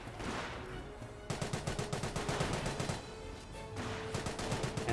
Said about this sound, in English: Brand carrier taking a bit of fire from that G43.